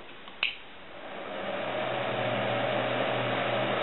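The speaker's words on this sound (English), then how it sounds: "And this fan is pretty loud. Let me let it run here real quick." A loud fan in a DIY solar air cooler clicks on and then spins up into a steady broadband whoosh that builds over a couple of seconds and holds close and constant.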